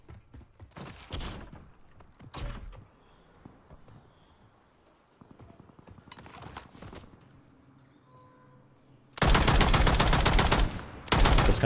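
Gunfire from the video game Warzone, with short bursts early on and a loud, sustained stretch of rapid shots near the end, separated by quieter in-game noise.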